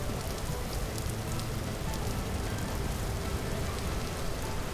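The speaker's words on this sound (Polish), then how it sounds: "O, i deszczyk pada." Rain falling in the video game Vintage Story, a dense, even hiss of drops hitting surfaces, continuous and moderately quiet, with no talk over it.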